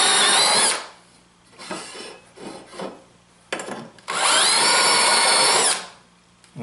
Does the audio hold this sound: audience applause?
no